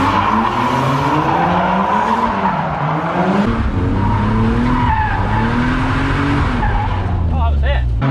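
A BMW E36 drift car slides with its tires squealing in long, wavering wails over a loud engine roar, the screech rising and falling throughout, with a voice talking over parts of it.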